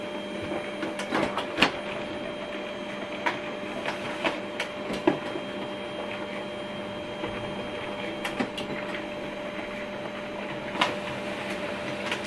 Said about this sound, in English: Right now it's printing out the document we sent.